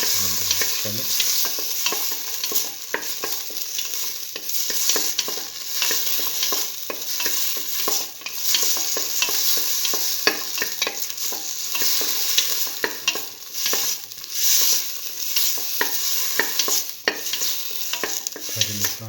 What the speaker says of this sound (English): Thoroughly sauteing.